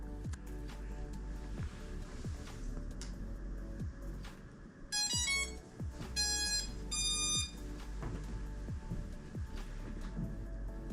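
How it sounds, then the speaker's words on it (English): A DEERC DE22 drone powering on: electronic beeps in three quick bursts of rising and falling tones, sounding over a steady low hum and scattered clicks. "Makes a cool little beeping noise, and then it's ready to be paired."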